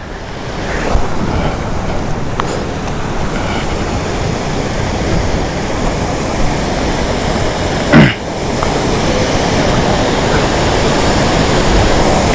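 A waterfall in Mustang, Nepal, makes a steady, loud broadband roar of rushing water that holds evenly throughout, with one brief louder splash or knock partway through.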